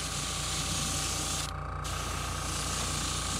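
Airbrush laying a light mist of paint onto a custom-painted glide bait fishing lure, a steady close hiss of compressed air and spray that briefly drops off midway, then resumes.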